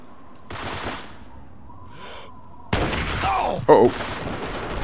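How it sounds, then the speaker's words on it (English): Gunfire in the video game Fallout 3, loud bursts of shooting that start and stop, with a sharp crack near the end over steady game ambience. "And what are they shooting at?"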